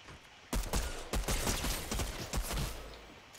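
Shotgun blasts in a Fortnite match, a quick burst of loud, close shots in rapid succession followed by a few more spaced blasts.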